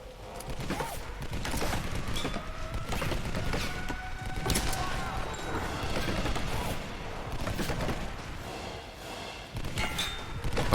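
Scattered gunfire with clattering mechanical noises and thumps in the action game Tomb Raider (2013), a series of sharp cracks spread over a busy, continuous game soundscape.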